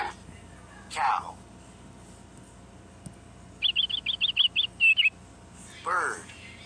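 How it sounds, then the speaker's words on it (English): Bird chirping from a toddler's animal sound picture book: a quick series of about eight bright, high tweets in a row. Brief voices sound before and after. "Bird."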